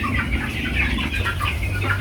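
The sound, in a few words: broiler chickens clucking on a poultry farm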